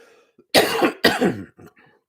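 Two harsh, loud coughs close to the mic, followed by a few softer throat-clearing sounds trailing off.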